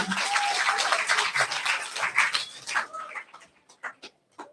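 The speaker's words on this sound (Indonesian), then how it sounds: "Tepuk tangan untuk kita semua." Applause in a school hall at a vocational school briefing, a dense burst of clapping from a large group of students that thins to a few scattered claps before stopping.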